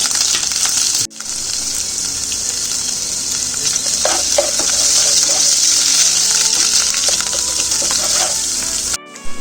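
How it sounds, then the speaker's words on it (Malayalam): Crushed ginger and garlic fry in hot oil for a curry leaf chicken dish, a loud, dense, unbroken sizzle close by, with a couple of brief cutoffs and faint clinks of a utensil. "ഇഞ്ചി വെളുത്തുള്ളി എണ്ണയ്ക്കകത്ത് ഇടുന്ന ഒന്ന് ഫ്രൈ ആയി വരട്ടെ"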